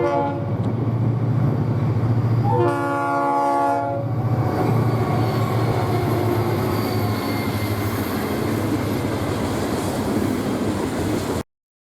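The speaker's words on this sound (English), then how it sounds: "we start things off with engine 407 leading cane empties on the USSC mainline" Sugar cane empties rumble past behind engine 407 on the U.S. Sugar mainline, a loud horn blast with stacked harmonic tones sounding partway through over a steady heavy rolling roar of the freight cars.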